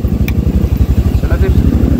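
A motorcycle engine runs close by with a rapid, even thumping pulse, loud and steady for the whole moment.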